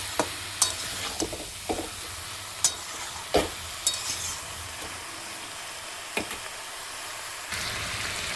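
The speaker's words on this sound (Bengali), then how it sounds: "ভালো করে কিন্তু আলু আর লাউ কষিয়ে নেবে" Bottle gourd and potato sautéing in a pan, a low steady sizzle broken by repeated sharp spatula scrapes and clinks, close and fairly quiet with no talking.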